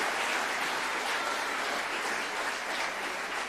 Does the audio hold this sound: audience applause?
yes